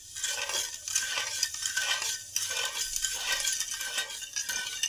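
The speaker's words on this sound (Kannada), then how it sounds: "ಈಗ ಇದೆಲ್ಲ ಒಂದ್ಸಲ ಮಿಕ್ಸ್ ಮಾಡಿಕೊಂಡು ಕುದಿಸ್ಕೊಳ್ಳೋಣ." A spoon stirs a sugar and water mixture in a pot while making Mysore pak, giving rhythmic scraping and clinking strokes that repeat steadily at close range, with no voices.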